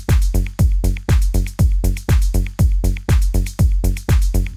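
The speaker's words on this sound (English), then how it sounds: "It just adds this like a distortion layer on top of that." A heavy, distorted bass stab pulses in a fast, regular melodic techno rhythm, loud and gritty, with no voices.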